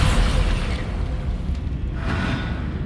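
In the video game Hogwarts Legacy, the Bombarda spell blasts a barricade with a deep, rumbling boom and a hissing burst, loud and close, that fades over a few seconds.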